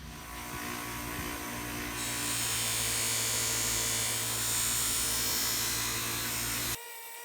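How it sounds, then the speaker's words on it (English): A buffing wheel spins against a knife blade in a knife-making shop, a steady close motor hum and high whine that swells as the blade is pressed in, then drops off abruptly near the end. "From here, we go to the single most dangerous piece of equipment in this shop, and that would be the buffing wheel."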